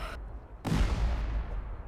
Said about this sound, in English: the amount of explosions going off